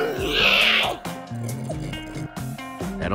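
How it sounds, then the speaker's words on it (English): In Minecraft: Story Mode, a pig character attempts a dragon roar: a squealing, grunting roar-like burst followed by short snorts over game music. "Give me a dragon roar, Ruben."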